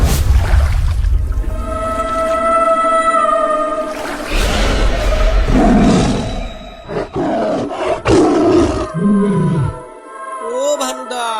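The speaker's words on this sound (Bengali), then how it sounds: "ও ও তো বাঘ। হ্যাঁ, ওর তো মুন্ডু নেই, তাও গর্জন করছে" A headless tiger gives deep, drawn-out roars that swell and rise over several seconds, loud and close, with voices mixed in alongside the snarling growls.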